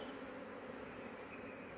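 Dense, continuous buzzing of many honeybees swarming close by while new colonies are hived, steady and unbroken with no voices.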